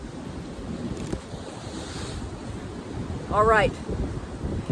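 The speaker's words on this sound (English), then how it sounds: "We get some nice wind." Sea wind gusting along the Greek shore with surf rolling beneath, a steady rushing roar buffeting the microphone throughout, while a voice speaks briefly near the middle.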